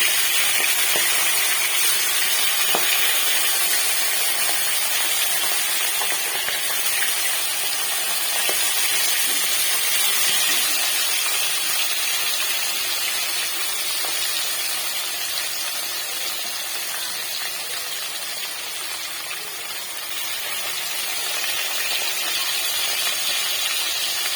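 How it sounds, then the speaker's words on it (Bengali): Hilsa fish pieces frying in hot oil in an iron wok give a loud, continuous broadband hiss and sizzle that holds steady throughout, close up with no talking. "তো ফার্স্টে দেখো মাছগুলোকে আগে আমি ভেজে নেব।"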